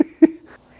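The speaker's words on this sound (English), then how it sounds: "What's that sound? It's my cat, Lixie." A pet cat outdoors gives a few short, close meows in quick succession, each brief and fairly loud, with no talking over them.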